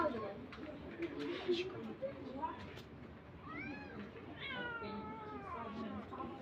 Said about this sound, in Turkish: yavru kedi bulduk